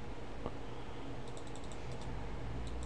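Keys clatter on a computer keyboard as a terminal command is entered on Ubuntu 11.04 Natty, a quiet run of soft taps with a few sharper clicks near the middle, no speech.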